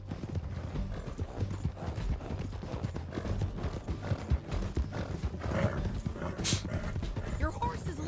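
Horse hooves clip-clopping steadily with occasional whinnies in a Red Dead Redemption 2 game scene, loud and continuous under overlapping character voices and background game sounds.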